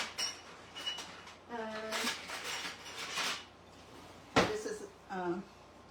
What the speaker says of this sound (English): I'm going to get a measuring spoon